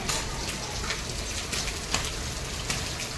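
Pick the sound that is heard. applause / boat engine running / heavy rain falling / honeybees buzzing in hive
heavy rain falling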